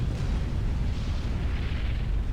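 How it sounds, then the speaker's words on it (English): A transport aircraft carrying a commander unit is shot down during a 2v2 real-time strategy match, bursting into a loud, sustained rumbling explosion with heavy low-end boom that fills the whole moment, no talk over it. "It was an SCU on a transport that was shot down by V"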